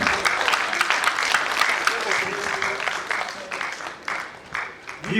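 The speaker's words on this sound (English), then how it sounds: "I'm clapping for you. All of us. The minister is clapping for you." An audience claps steadily at a formal induction ceremony, the dense applause carrying on under a voice speaking over it.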